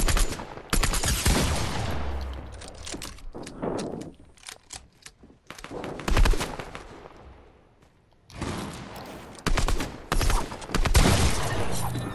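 Bursts of automatic gunfire from the Fortnite video game come in loud clusters of rapid shots, separated by quieter gaps with a person talking in between.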